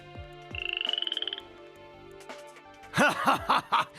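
A cartoon frog croaks in a rapid rattling trill, followed by a burst of loud, bouncy croaks near the end, clear and close against music with no speech.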